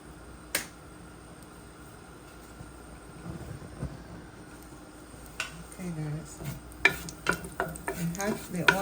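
A tablespoon of turmeric is stirred into hot oil in a pot, with soft scraping and a faint sizzle under scattered sharp clicks and taps that grow busier toward the end.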